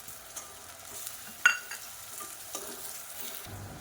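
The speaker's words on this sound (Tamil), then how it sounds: "இப்போ வெங்காயம் நல்லா பொன்னிறமாக வதங்கட்டும்." Onions and mint leaves sautéing in oil for jackfruit biryani, a low steady sizzle with a sharp scrape or clink of the spoon partway through and a few softer stirring knocks, close up and without talk.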